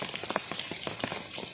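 Rain falls in scattered, uneven drops striking a surface nearby, tapping in an irregular patter over a light background hiss.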